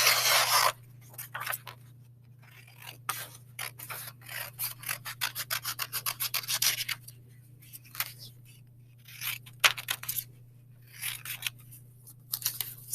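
Scissors snip through paper, cutting out small thumbnail sketches drawn for a colored pencil collage: rapid bursts of close, crisp cuts with brief pauses, over a steady low hum, no talking.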